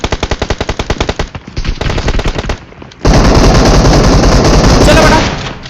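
Rapid automatic gunfire in the BGMI mobile battle royale game, a loud close rattle of evenly spaced shots that gives way to a dense roar of overlapping fire and blasts.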